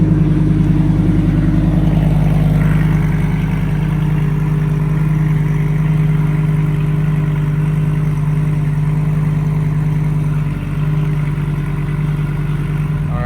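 A Lamborghini Gallardo engine runs steadily and close by, a loud, continuous mid-pitched drone with a slight lift in revs early on. No one speaks over it.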